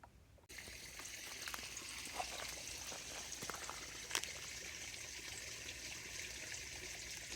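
A soft, steady trickle of water runs while water is filtered beside a stream on the Appalachian Trail, a faint continuous wash with a few small splashes and no talking.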